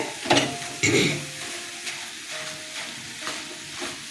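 A ladle stirs a thick vegetarian thor ghonto with fried aubergine and potato as it fries in a pan, with a few close scraping strokes over a steady low sizzle.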